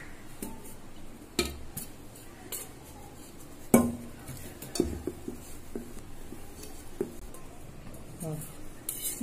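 Spoon clinks and scrapes against a bowl while egg white is folded into cake batter in one direction, soft irregular taps with a few sharper knocks, close and fairly quiet.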